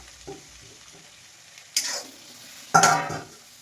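Soaked rice and vegetables for a pulao go into a hot pan. After a few light taps, two bursts of close, hissing sizzle and stirring rise and fade, the second louder than the first.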